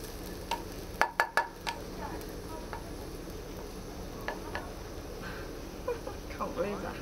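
A hash brown is chopped and scraped in a sizzling frying pan at a campsite breakfast, with a quick cluster of sharp utensil clacks against the pan, then softer scattered taps over steady frying hiss.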